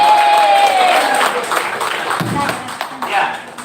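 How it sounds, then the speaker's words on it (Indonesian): Audience clapping at a talk on gender in Nias culture, a lively round of applause mixed with overlapping voices and a few sharp taps, fairly close and loud throughout. "Kita tepuk tangan untuk mereka."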